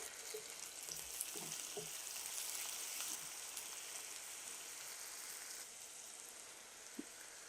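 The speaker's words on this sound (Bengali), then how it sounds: "আমি এখানে আদা রসুনের পেস্ট দিয়ে দিচ্ছি 1 টেবিল চামচ।" Ginger-garlic paste frying with chopped onions in a pan for fish curry gives a steady, soft, hissing sizzle throughout, with a few faint stirring taps and no talking.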